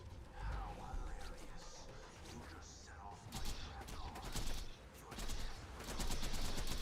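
Rifle gunfire in Borderlands 2 crackles in dense, rapid bursts amid chaotic combat noise, continuous and moderately loud, with a voice talking faintly underneath.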